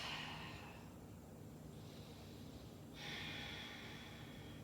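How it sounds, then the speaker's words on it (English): Slow, deep breaths during a yoga pose: a long airy inhale or exhale, a pause, then another steady breath, close and soft with no talking. "Good, a few more deep breaths."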